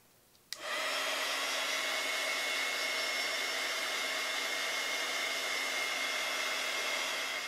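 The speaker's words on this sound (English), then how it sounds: "we're going to use our heating tool, and I want to point out that it is safe to use on this mat" A heat tool drying paint on a small craft pumpkin switches on with a click after a short quiet moment, then blows a loud, even, continuous whir until the end.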